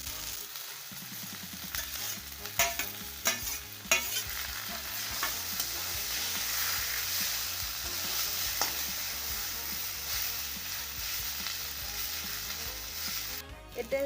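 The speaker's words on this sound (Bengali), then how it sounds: "এবার মশলাটাকে ভালো করে নেড়ে চেড়ে নিই।" A spiced mixture of grated paneer and potato fries in oil, sizzling steadily throughout while a utensil stirs and scrapes it in a regular rhythm, close and clear with no talking.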